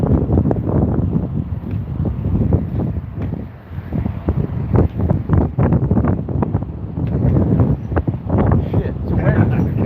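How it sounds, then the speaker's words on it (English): Strong wind blows hard outdoors, pounding the microphone with loud, continuous rumbling gusts that surge and ease, close and dominant, with a voice partly buried beneath it. "it's a windy one today"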